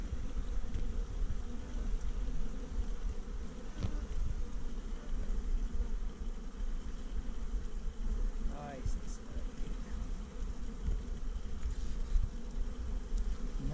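Iberian honey bees buzz in a dense, continuous hum around an opened hive during an inspection, close and steady throughout with faint handling noises.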